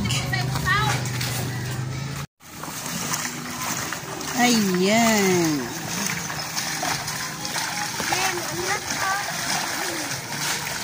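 Seawater from a high tide splashes and sloshes inside a small sari-sari store, a steady wet wash under frequent talk from several people, with children's voices and brief louder splashes.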